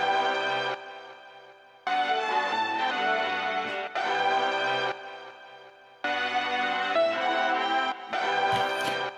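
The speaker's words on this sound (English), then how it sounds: "And the next sample is just some strings, and this sounds like this on its own." A bowed string ensemble plays sustained chords in phrases separated by short breaks, full and steady with no voices.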